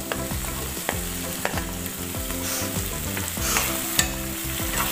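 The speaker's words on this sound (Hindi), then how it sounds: "आलूआं नूं भी असी एक मिनट तक भुन्नांगे" Diced potatoes frying with onion in a pan, stirred continuously, giving a steady close sizzle broken by repeated spoon scrapes and knocks against the pan.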